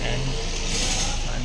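A Kia Carnival minivan engine running just after its automatic transmission fluid was changed, a steady mid-pitched hum with a brief higher whine, close and fairly loud, with no talk over it.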